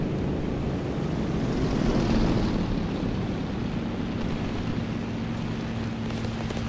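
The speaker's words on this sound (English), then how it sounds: "There's a plane up here, dude." An airplane flies overhead in a video game, a steady broad roaring rumble that holds at an even level and then eases slightly, with no voices.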